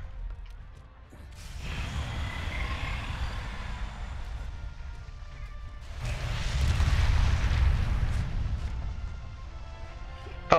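Cannon fire in the video game Monster Hunter World: two heavy, rumbling booms, each swelling into a long roar with creaking mechanical texture, loud and reverberant, with no talk.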